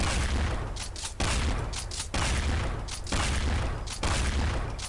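The Big Shark weapon in Counter-Strike Online fires a sustained stream of gunfire with rhythmic bursts about once per second, loud and continuous, over an underlying low rumble.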